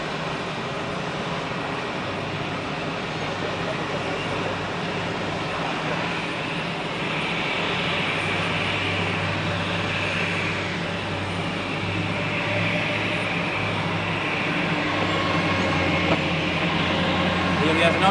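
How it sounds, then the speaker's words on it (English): Edelweiss Airbus A320 jet at Zurich Airport, a steady broadband engine roar with a low droning hum that builds slightly louder partway through, heard from a spotting position with faint talk in the background. "Here we have another Edelweiss A320."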